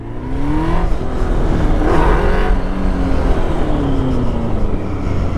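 A 750 Kawasaki H2 two-stroke motorcycle revs and accelerates nearby, its loud, buzzy engine note rising and falling in pitch as it pulls away along the road.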